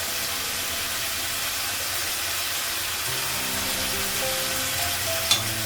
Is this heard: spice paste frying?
yes